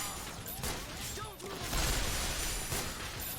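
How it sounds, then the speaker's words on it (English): Dense, rapid gunfire from the video game Resonance of Fate makes a busy crackling barrage with mechanical clatter. It runs continuously and swells heavier midway. "Oh my god, too much gunfire."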